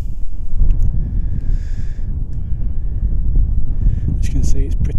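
Steady, blustery wind buffets the microphone with a constant low roar, broken by occasional faint rustles and higher hisses toward the end.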